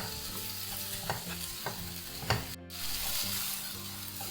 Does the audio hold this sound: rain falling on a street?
no